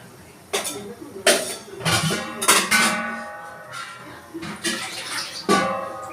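Water is poured into a pot of brinjal and sundakkai kuzhambu during home cooking, making several splashing bursts of varying loudness close by.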